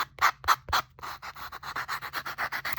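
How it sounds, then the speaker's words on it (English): A handheld sander runs around the edges of a paper collage, giving a few separate scuffs followed by a steady run of short rhythmic rubbing strokes, close and fairly loud, with no talking. "sander here and go around, smooth those edges up"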